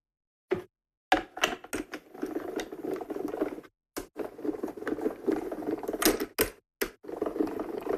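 Embossing machine cranking a folder through for stamping crafts, a sequence of close mechanical ratchety clicks and grinding patters in uneven bursts separated by short silences.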